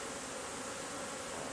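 A honeybee swarm clinging to the side of a wall gives off a steady, dense buzzing hum that holds unbroken and fairly faint throughout, with no voices.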